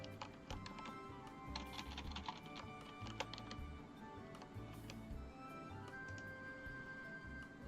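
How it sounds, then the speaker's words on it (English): Quick bursts of typing on a computer keyboard, with light key taps clustered in rapid runs and short pauses between them, while playing Orna GPS RPG. "Let me just type in Flask."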